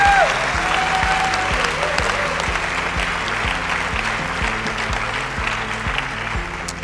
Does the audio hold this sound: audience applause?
yes